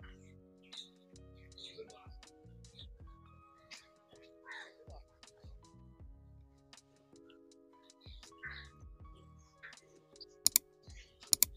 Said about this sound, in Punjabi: ਇਹ ਦੇਖੋ ਕਬੂਤਰ ਦਾਣਾ ਚੁਗ ਰਹੇ ਨੇ।